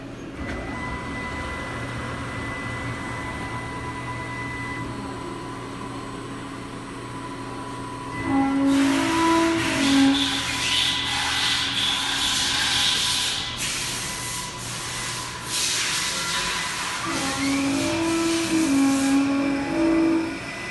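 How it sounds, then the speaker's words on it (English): A Haas VF-6 vertical machining center spindle gives a steady machine whine with tonal hum throughout, joined midway by loud hissing, spraying noise that comes in bursts and then eases. "Spindle sounds nice and quiet."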